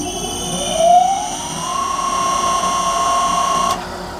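An electric motor driven by a VFD and started by a sensor spins up with a rising whine that levels into a steady high tone, then cuts off sharply near the end over a faint background hum.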